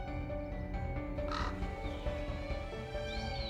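Ravens and hooded crows caw in a national park where they gather at dead animals, with repeated harsh calls rising over a steady wash of outdoor background noise.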